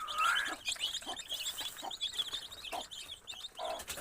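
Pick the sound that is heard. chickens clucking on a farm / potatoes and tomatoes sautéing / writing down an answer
chickens clucking on a farm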